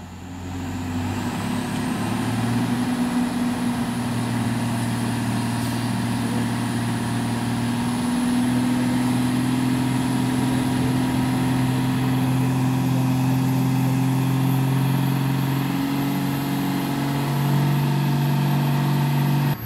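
An Isuzu Elf truck engine straining and revving while pulling a load, a loud, sustained diesel drone that climbs gradually in pitch, close and continuous throughout.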